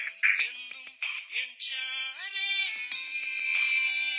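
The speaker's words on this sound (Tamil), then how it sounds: "எனக்கு ஃபோன் அடிக்குது" A mobile phone rings with a bright electronic melody, its tones stepping up and down steadily and clearly for several seconds with no talk over it.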